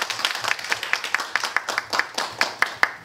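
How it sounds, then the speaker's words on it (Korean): Steady, evenly paced clapping from an audience at a leadership academy lecture greets an emeritus professor from Hanyang University, with crisp, close claps repeating several times per second. "박수 부탁드리겠습니다."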